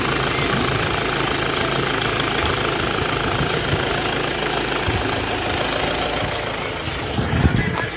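A 2013 Fiat Ducato van's diesel engine idles steadily and close by, a low rumbling drone with a faint knock that continues without a break; the engine has oil in its coolant.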